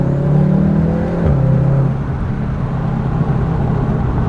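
Volkswagen Golf R exhaust with the CTS resonator removed, revving at idle: a steady, fairly loud low engine drone that rises briefly, then settles into an even rumble, with no talking.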